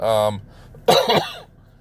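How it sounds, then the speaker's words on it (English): A harsh cough bursts out after a brief vocal sound, followed by a shorter rough second cough, close and fairly loud. "apologize for my cough"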